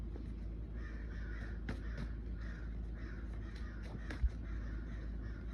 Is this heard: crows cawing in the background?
yes